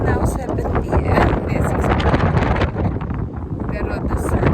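Evening wind blows outdoors on a summer day in Assisi, Italy, buffeting the microphone with loud, rough, continuous rumbling noise from start to finish.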